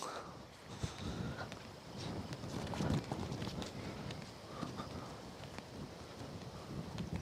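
Strong wind on a mountain rushes and buffets steadily against the microphone, a constant low roar with no voices.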